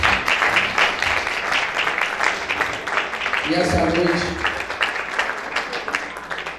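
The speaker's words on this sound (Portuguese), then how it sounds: "Vamos dar um aplauso para Jesus aí." Congregation applauding during a church anniversary service, a steady dense patter of clapping across the whole stretch while someone talks over it briefly.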